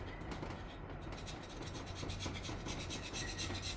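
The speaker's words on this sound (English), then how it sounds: "We're going to come through with our scraper." A scraper rasps repeatedly against an engine cylinder of a 440SX motor, taking off old gasket material in quick, gritty strokes, close and quiet.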